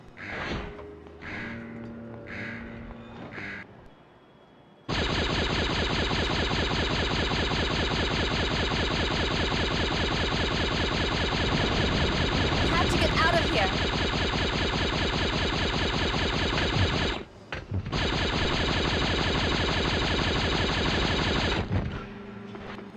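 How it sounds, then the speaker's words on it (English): Hover cannons fire in a Star Wars Episode I video game, a harsh buzzing rapid-fire stream that runs for long unbroken bursts after a few short shots, loud and close, with one brief pause. "More hover cannons will be coming."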